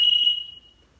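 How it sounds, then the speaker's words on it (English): A Talon Bluetooth device gives a short, high electronic tone confirming its connection to an iPhone, loud for a moment and then fading, with no one speaking. "And you heard that triple beep."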